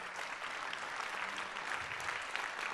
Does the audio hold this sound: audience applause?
yes